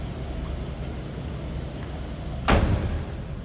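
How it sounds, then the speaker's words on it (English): A single solid thud of a 1975 Lincoln Continental Mk IV two-door hardtop's door shutting, close by, over a steady low rumble of background noise. "Door closes nicely."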